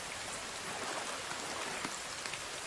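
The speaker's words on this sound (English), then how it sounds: "Oh, it's lightning already. Oh, is it raining?" Steady rain pours down in the survival video game The Forest, a dense, even hiss with scattered droplet ticks. No distinct thunder crack stands out.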